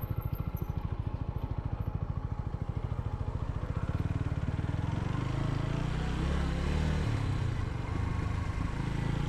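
A motorcycle rides along a mountain road between Manizales and Samaná, its engine putting out a steady, rapid, close thrum with rising road and wind noise as it picks up speed.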